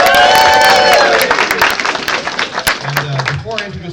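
Audience at a convention opening ceremony clapping briefly, the claps thinning out and fading within a few seconds as a speaker's voice is heard over and after them.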